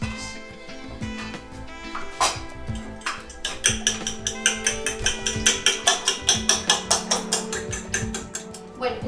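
Eggs being beaten by hand in a bowl for Spanish torrijas, a quick run of rhythmic clinks building into a steady, regular whisking beat close by, with scattered kitchen knocks before it.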